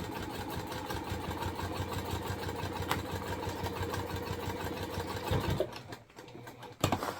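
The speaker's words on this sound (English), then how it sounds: "and then continue sewing." A sewing machine stitches the gusset of a fabric bag, running at a steady, even pace up close for about five seconds, then stopping, followed by a few light handling noises.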